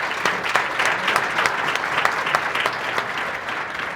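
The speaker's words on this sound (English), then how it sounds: "Big round of applause for our panelists" An audience at a conference session on AI in clinical workflows applauds its panelists, a full, steady burst of close clapping with no voices over it.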